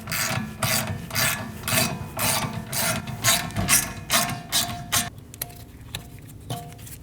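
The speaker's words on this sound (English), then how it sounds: "Using a 7mm Allen, we're going to remove the caliper bolts" A ratchet fitted with a 7mm Allen bit works loose the rear brake caliper bolts on a Mazda 3, with rapid rhythmic clicking strokes in about nine bursts, loud and close, ending in a few slower clicks.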